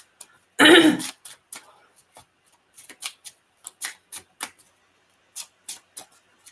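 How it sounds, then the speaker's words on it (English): Tarot cards being shuffled by hand, one loud rustling burst followed by a series of short, quiet, evenly spaced card flicks and taps with silence between them. "I got to really shuffle these good because they're actually in number order."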